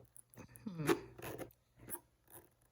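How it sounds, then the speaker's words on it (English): A zipper being worked open on a Sofft Utley leather wedge bootie, heard as short scratchy rasping bursts that stop and start, close and fairly quiet. "I'm going to set this down so I can unzip this properly"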